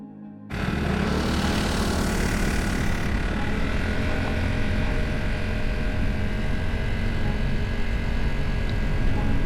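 Vespa scooter engine buzzing continuously while riding, starting abruptly and holding a steady, loud drone mixed with wind rush, no talking.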